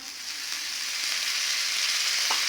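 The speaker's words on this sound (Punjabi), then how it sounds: "ਆਪਾਂ ਗੈਸ ਔਨ ਕਰਕੇ ਰੱਖਿਆ ਜੀ ਆਪਣਾ ਤਵਾ ਤੇ ਇਹਦੇ ਉੱਪਰ ਆਪਾਂ ਪਾਵਾਂਗੇ ਜੀ ਥੋੜਾ ਜਿਹਾ ਬਟਰ" Butter sizzling on a hot tawa over a gas flame while pav bhaji is being made, giving a steady, close hiss that holds throughout with no one talking.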